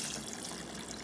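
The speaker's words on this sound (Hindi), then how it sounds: "अभी इसमें मैं डालूँगी गर्म पानी।" Hot water being poured into a pot of meat pieces while cooking a spicy karahi boti, a steady close splashing and trickling flow with no talk.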